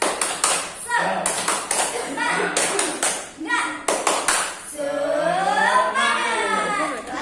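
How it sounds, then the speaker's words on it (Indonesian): Children in a Year 4 classroom perform the tepuk semangat rhythmic clapping chant, with bursts of patterned claps alternating with loud chanted voices, then a sustained sung or shouted stretch. "Tepuk semangat."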